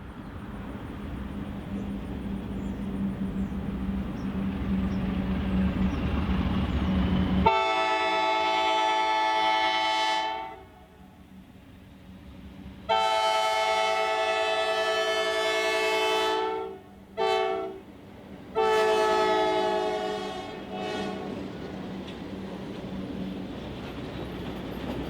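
Arkansas & Missouri Railroad Alco diesel locomotives in the Ozarks, a low engine rumble at first, then the horn blowing a series of loud blasts, two long, two short and a final long one, with brief pauses between.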